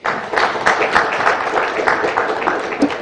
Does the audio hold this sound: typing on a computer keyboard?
no